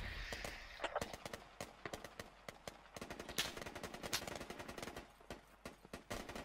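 Gunfire in the tactical shooter Squad, with rapid bursts of automatic rifle shots cracking in dense, irregular volleys, close and loud, mixed with distant reports and battlefield ambience.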